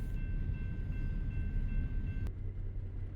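In American Truck Simulator, an extra-long game train passes with a low, continuous rolling rumble at moderate distance, a faint steady tone riding above it, and a brief click near the end.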